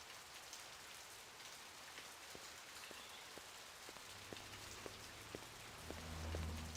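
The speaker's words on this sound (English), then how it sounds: "it's almost perpetually raining" Steady rain falls in the Blade Runner video game, a soft continuous hiss of drops on surfaces with faint periodic ticks and a low rumble swelling near the end.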